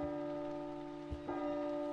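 Bells ring in the horror video game P.T., with sustained, overlapping metallic tones that hum steadily and fairly loudly, a low thud, and a second struck bell swelling in partway through.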